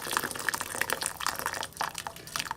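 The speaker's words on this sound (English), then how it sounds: "let's get a kettle of boiling water and fill this saucepan" Boiling water from a kettle is poured into a saucepan with a bubbling, dripping splash that stays fairly steady and close for a couple of seconds.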